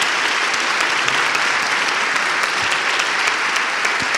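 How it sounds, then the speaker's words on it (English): An audience at a speaking event for Governor Bill Weld claps in a dense, steady round of applause that stays loud and even from start to finish, with no talking. "How about a round of applause for Governor Weld?"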